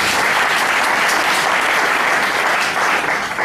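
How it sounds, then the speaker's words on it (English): A lecture hall audience bursts into loud, sustained applause, many hands clapping in a dense, steady wash for several seconds with no voices over it. "let us clap for it"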